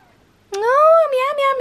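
A single drawn-out, high-pitched meow from a fluffy cat with a rising then falling tone, close and clear, following a moment of quiet.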